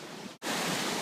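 Atlantic Ocean surf breaks at the shore as a steady broadband wash of noise, briefly dipping before swelling back, close and continuous with no voices.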